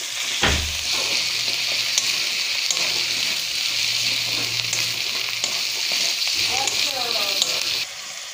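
Garlic paste frying in oil in a pan for chilli chicken, a continuous close sizzle with a low hiss, a brief splash near the start and light stirring scrapes later, steady and loud throughout.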